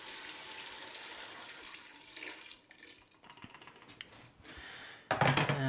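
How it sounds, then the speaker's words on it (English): Water runs steadily into a pot of softened vegetable soup, a continuous pouring rush that thins out, with clinks near the end. "so I'm just going to add some water"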